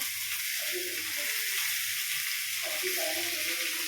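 Onion and tomato fry in a pan for a Bombil chutney, giving a steady, dense sizzle with soft stirring scrapes underneath and faint background voice.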